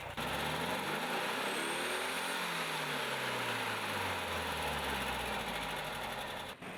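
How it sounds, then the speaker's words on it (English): A 1976 VW Beetle with a 1200 engine rated at 40 horsepower runs steadily and close by, its engine note rising and falling through the clip, with no voices over it. "VW Beetle 1976 model is powered by a 1200 high combustion engine, which produces 40 horsepower"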